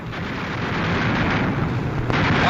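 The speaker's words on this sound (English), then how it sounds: "Watch this explosion." Explosion in WWII aerial combat footage of bombers fighting through rocket-armed twin-engine enemy fighters, a loud, sustained rumbling roar that builds and holds, with a sharp crack near the end and no speech.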